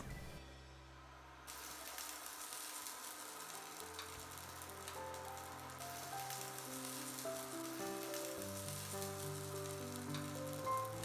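Seafood pancake batter frying in oiled metal rings on a hot pan, a soft, steady crackling sizzle that grows slightly denser over time, with faint tonal background sound.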